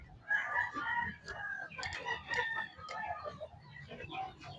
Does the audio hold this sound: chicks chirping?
yes